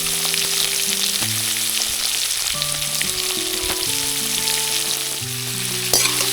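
Paneer frying in hot oil in a pan over an outdoor campfire while camping, a steady close sizzle running throughout, with no voices over it.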